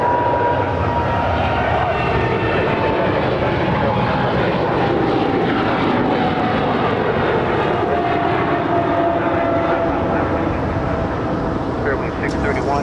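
Airliner engines roaring steadily and loud at Los Angeles airport LAX, a continuous jet rumble with a faint whine throughout as a plane lands, while radio voices talk over it.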